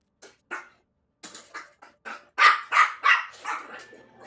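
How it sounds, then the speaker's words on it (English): Several dogs, pugs among them, bark in a run of sharp, close barks, sparse at first and then louder and faster in a steady burst near the end. "the dogs have been very, very noisy."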